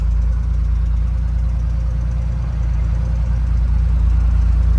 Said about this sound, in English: Idles beautifully.